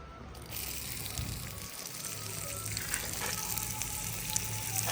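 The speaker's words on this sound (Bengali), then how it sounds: "এবার চলে গেল আমাদের কাঁচামরিচ, রসুন আর পেঁয়াজ। এটাকে খুব ভালো করে ভেজে নিতে হবে।" Green chillies, garlic and onion fry in hot oil, a loud continuous sizzle that rises and stays dense up close, with faint stirring and no talking.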